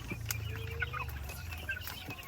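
Chicks clucking and peeping among a small flock, short chirps and clucks in quick succession close by over a low steady background hum.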